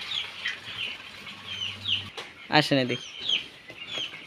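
Chickens on a broiler farm cluck and squawk with a sudden burst of wing flapping as a few birds are grabbed for weighing, close by, while people talk over the commotion.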